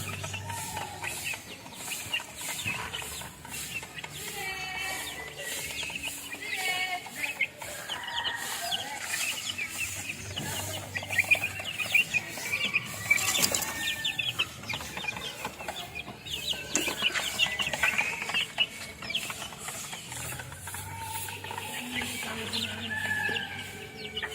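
Three-month-old backyard chickens cluck steadily at close range, with overlapping calls and soft chatter from several birds throughout, and an occasional rooster-like crow rising above the flock.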